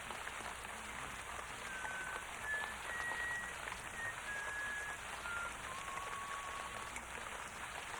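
Steady rain falls on a surface, a constant hiss of drops, with faint thin whistling tones drifting in the background.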